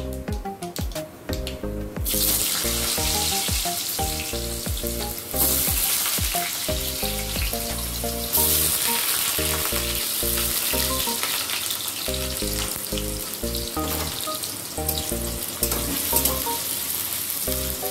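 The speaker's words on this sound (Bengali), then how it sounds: "এবারে এই আলুগুলো ভেজে নেব।" Potatoes fry in hot oil seasoned with black cumin, giving off a continuous bright sizzle. The sizzle stays fairly steady and close for the whole stretch, with faint stirring textures.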